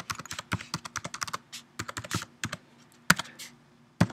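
Computer keyboard typing, a quick irregular run of crisp key clicks with short pauses and a couple of louder final taps, heard alone and close.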